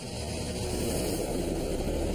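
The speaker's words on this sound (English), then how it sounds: "A fleet of helicopters arrives on the scene." Fleet of firefighting helicopters flying over a blaze, a continuous low rumbling engine and rotor drone that stays steady and fairly loud throughout, with no voices.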